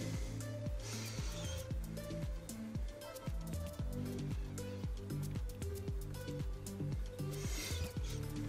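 A file rasps repeatedly across a small protrusion on an airsoft gearbox shell, quick close-up strokes in a steady back-and-forth rhythm, fairly quiet and without talk.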